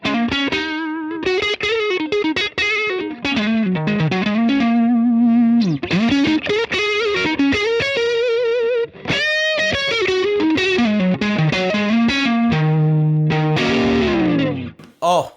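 Electric guitar driven through an Origin Effects RevivalDRIVE overdrive, playing loud, sustained distorted notes and bends with a low harmonic sagging under each note, continuous and close.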